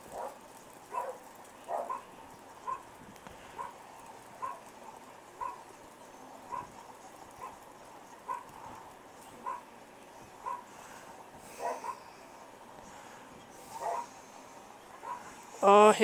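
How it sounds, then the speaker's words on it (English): Dogs bark in short, separate bursts spaced every second or two, moderately distant and fairly faint, over a quiet indoor background. "my dogs are barking"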